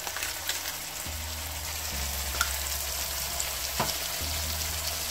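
Mixed vegetables for khichuri frying in a pan, a steady soft sizzle with light crackles and occasional stirring scrapes, close and alone without talk.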